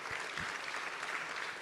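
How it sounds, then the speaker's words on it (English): An audience at a meditation event in New York gives a round of applause, a faint, distant, even wash of clapping throughout. "Give them a big round of applause, please."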